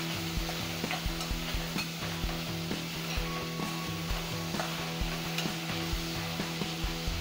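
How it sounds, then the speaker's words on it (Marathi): Mushrooms sauté in oil in a pan for a green masala dish, giving a steady sizzle with rapid, rhythmic stirring strokes throughout, close and continuous. "एक मिनिटभर आपण इथं मशरूम हे परतून घ्यायचे आहेत।"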